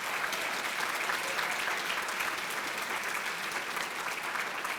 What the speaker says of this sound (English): One more big round of applause for the academic excellence that was shown here tonight